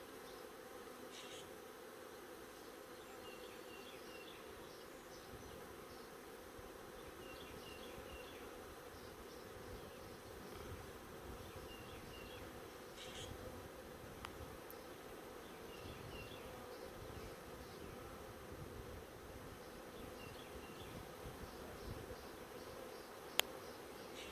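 A large swarm of bees clustered on a stand hums as a steady, faint outdoor drone, with a few individual buzzes passing close at times.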